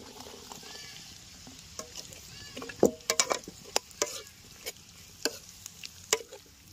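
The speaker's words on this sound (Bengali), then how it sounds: "এখন আমাদের ক্যাপসিকাম আর পেঁয়াজ কিউবগুলো ভেজে নেবো।" Capsicum and onion cubes fry in a pan with a soft, low sizzle, broken by scattered sharp clicks and scrapes of stirring that cluster in the middle of the stretch.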